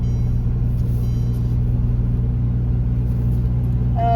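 A Mercedes-Benz car engine under acceleration, a steady low rumbling drone heard from inside the car, continuous and moderately loud with no voices.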